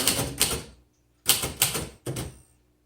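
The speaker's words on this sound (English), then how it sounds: "Some typewriters have a nice click and others don't." Keys of a 1934 Royal Model O manual typewriter clatter in three quick bursts of clicks, close up and crisp, separated by brief silences.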